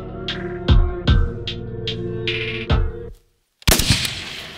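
An SVD sniper rifle firing on a shooting range: several loud, booming reports with ringing decays, then a brief silence and another heavy blast.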